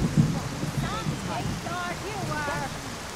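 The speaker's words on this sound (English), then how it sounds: "Damn, that rain just kicked right in, huh?" Heavy rain in Skyrim pours as a dense, steady hiss under a man's speech, with a low rumble of thunder near the start.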